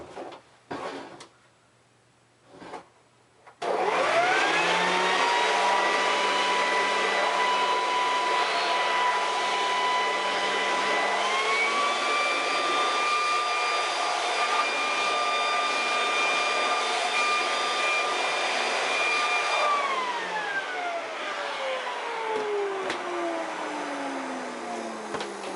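Electric blower blowing dust out from behind a refrigerator: a loud, steady, close whine that kicks on suddenly, shifts pitch upward midway, then winds down as the motor slows, heard alone.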